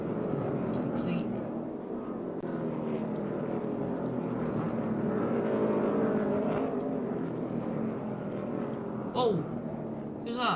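NASCAR Xfinity Series race cars roar along the Chicago street circuit, a continuous loud engine drone with shifting pitch as cars pass, while a commentator talks over it.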